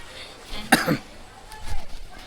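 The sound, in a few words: coughing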